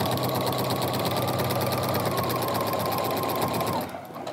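A sewing machine fitted with a walking foot stitches a quilt in a fast, even mechanical whir with rapid needle ticks, running steadily close up before slowing and stopping.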